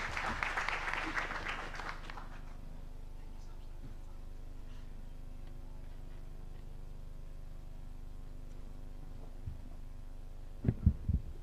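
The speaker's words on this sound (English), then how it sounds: "Let's give him a better clap." Applause from an audience at a COP28 campaign launch, a burst of clapping at the start that quickly fades into a low room hum, with a few thumps near the end.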